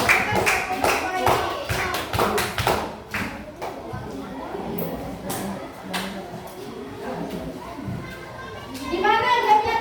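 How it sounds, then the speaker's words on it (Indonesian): Children in a primary school classroom clap together in a quick burst of rhythmic applause, then chatter and call out while a teacher speaks; another short round of clapping rises near the end. "Oke, tepuk tangan."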